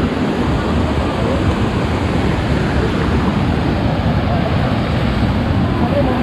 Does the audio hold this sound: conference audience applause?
no